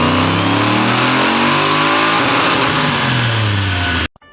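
An LS-swapped BMW E46 revs hard on a dyno pull, a loud, close engine roar climbing steadily in pitch, dipping briefly, then climbing again before cutting off abruptly.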